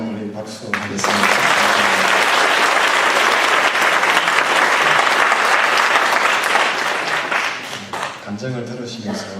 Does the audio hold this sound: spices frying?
no